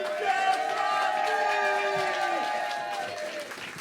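A room of listeners applauds a slam poet at a poetry tournament in Antibes, the clapping steady and full for a few seconds under raised voices and cheers, then easing off toward the end.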